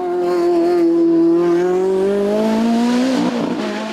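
A Ferrari 430 GTO race car roars up the Turckheim–Trois Épis hill climb, its loud, sustained engine note climbing steadily in pitch before shifting and fading as it passes close by.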